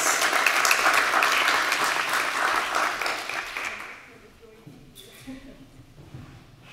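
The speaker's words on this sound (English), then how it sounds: "Please give a warm applause for our panelists." An audience at a transport and urban mobility conference applauds panelists with loud, dense clapping for about four seconds, then it fades and a voice begins speaking.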